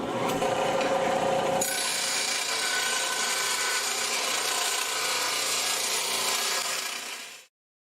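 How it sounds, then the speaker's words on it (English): Pedestal grinder smoothing rough cuts on a steel trailer hitch for a four-wheeler, a harsh continuous rasping grind that sharpens and brightens after a moment, holds steadily close, then cuts off to silence at the end. "I think I'll start with my pedestal grinder here and just try to clean up some of the rough cuts and things on this"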